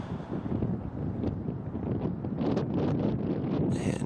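Steady wind roars across the microphone on an open disc golf course during a women's final round, a constant low rumble with gusty swells and no talk.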